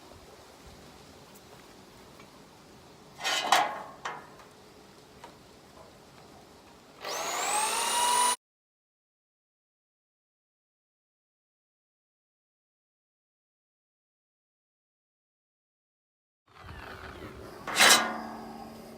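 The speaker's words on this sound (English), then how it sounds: "So let's drill a couple holes." Power drill boring holes in a metal tube, whirring in short bursts, rising to a strained high whine as it bites, then a stretch of silence before another brief burst.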